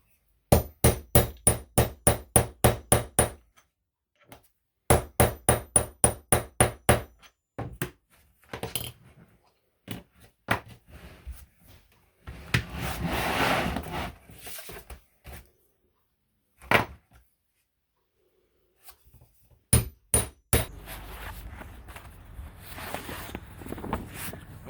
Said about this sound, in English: Install the anvil, grab our setting tool.